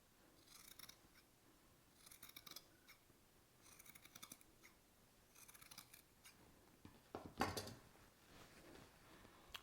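Scissors trim fabric seam allowance around a pajama neckline, bursts of quick snips repeating in short clusters, quiet and close, ending with a louder handling clatter.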